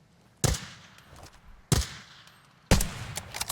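Three loud, sharp gunshots in the Arena Breakout Infinite shooter game, spaced roughly a second apart, each with a quick decaying tail and faint game ambience between them.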